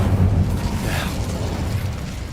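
A fiery Incendio spell bursts in Hogwarts Legacy, a loud low rumbling blast that swells at the start and then fades into a steady roar, with no one talking.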